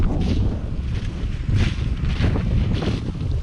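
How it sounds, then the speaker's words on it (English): Cold wind blows across a cornfield during harvest, buffeting the microphone with loud, continuous gusty rumble that swells and eases. "It's windy, cold."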